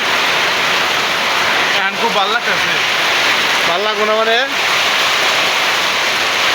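Heavy rain in a village falls as a loud, steady roar throughout, with two short stretches of people talking over it.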